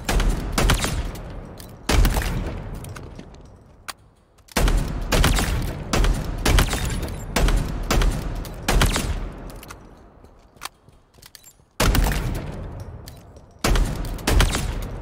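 Video game shotgun fired repeatedly on a shooting range, loud booming blasts in irregular bursts, each shot followed by a short decaying tail.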